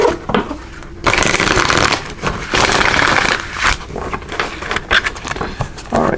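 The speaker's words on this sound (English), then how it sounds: "So let's give these a good shuffle and see what messages the Creator has for you." A deck of tarot cards is shuffled repeatedly by hand, with dense riffling bursts and brief pauses between them, close and loud.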